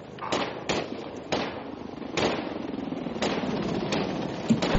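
Video game gunfire at a construction-site base sounds as a series of sharp, separate shots, about eight over a few seconds, fairly distant and moderate in level over a low background rumble.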